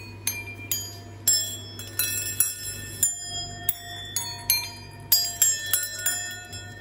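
Bronze bells from a shop's collection ring in a lively irregular sequence of bright metallic strikes, each with a long shimmering decay, overlapping into a dense chiming pattern close to the listener.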